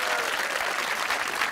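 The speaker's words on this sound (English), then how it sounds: "a round of applause for Emma and Ben" A studio audience at a BBC quiz show bursts into steady, dense applause, loud and continuous throughout the short stretch with no pause.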